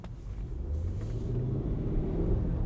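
A 2023 Range Rover P530 V8 in Dynamic mode pulls forward with a deep, steady engine rumble heard from inside the cabin, building gradually without talk.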